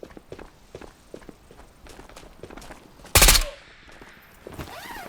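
An AS Val rifle fires rapidly in the VR shooter Ghosts of Tabor: a stream of quick, light cracks and clicks, then one loud, dense burst of shots near the middle, followed by fainter mechanical rattling.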